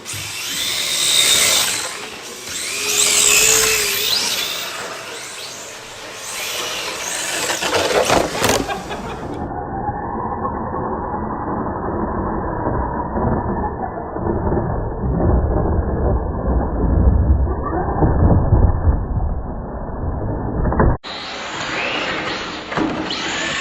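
Cars drifting in a judged drift battle, a loud sustained engine roar with revving and tyre noise that holds steady for most of the stretch, somewhat muffled in the middle section.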